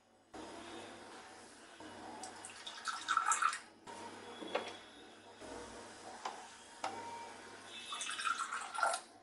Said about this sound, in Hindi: पानी को हम ग्लास में डालते हैं।